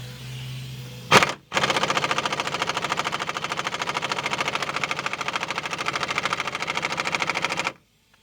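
An impact wrench on a 2000 Pontiac Grand Prix GT, hammering at wheel-bearing bolts, gives one brief burst and then a long, steady, loud rapid rattle for about six seconds before cutting off abruptly.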